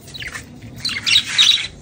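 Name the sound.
yellow birds squawking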